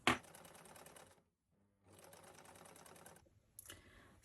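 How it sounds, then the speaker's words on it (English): A sewing machine stitches a bag flap made from an old jacket, running in two steady bursts of rapid close mechanical chatter with a short pause between them. "and then I'll just sew all the way down there."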